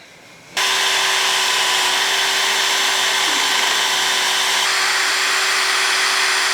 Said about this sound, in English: now we'll drill these holes out on this side